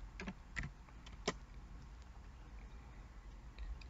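Typing on a computer keyboard while searching for a word, a few quiet separate key taps in the first second and a half, then faint scattered clicks over a low steady hum. No one talks.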